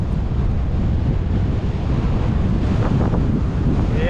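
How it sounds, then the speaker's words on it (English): Steady headwind roaring across the microphone on a road cycling loop in Texas, a loud, continuous rumbling buffet throughout with no talk. "it looks like it's mainly headwind."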